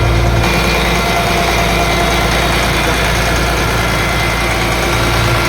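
A fishing trawler's engine runs steadily at idle, a loud continuous low rumble and vibration that never changes pace throughout, on the Arabian Sea.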